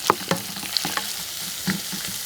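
Two finely chopped large onions frying in a pan, a soft steady sizzle punctuated by a few sharp spoon clinks and scrapes against the pan, with no voices.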